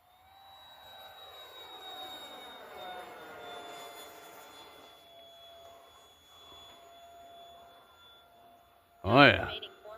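4S-powered model electric fan jet flying past, a whining tone that rises and falls as it sweeps by at a distance, fairly faint, ending with a short loud burst near the microphone.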